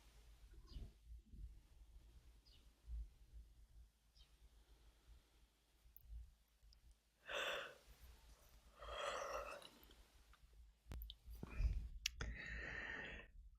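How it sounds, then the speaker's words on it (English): Sharp clicking noises during a spiritual channeling session, scattered brief ticks over a quiet, faint background with soft breathy sounds and a few louder bursts near the end. "I could hear all kinds of clicking going on when you were speaking"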